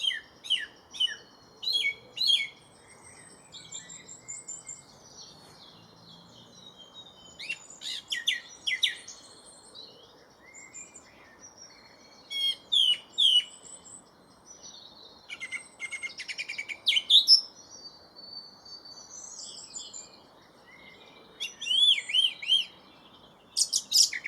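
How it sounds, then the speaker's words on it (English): Song thrush singing from tall trees beside a woodland stream in spring, clear repeated phrases in separated bursts over a soft, quiet background, some notes closer and louder than others. "This spot is one of the most reliable places in the wood to hear the song of the song thrush."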